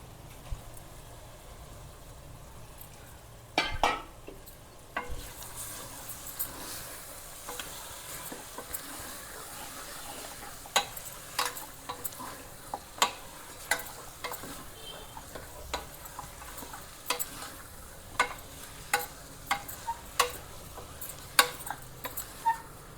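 Mutton sizzles in a pan with onions, green chilli and ginger, a soft continuous frying hiss punctuated by sharp clicks and scrapes of a spoon stirring against the pan, fairly quiet and close.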